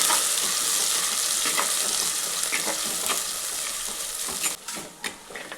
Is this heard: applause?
no